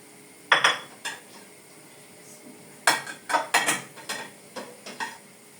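Dishes and cutlery clink and clatter in short bursts as a dishwasher is unloaded, ceramic knocks and metallic rattles close by, with quiet gaps between clusters.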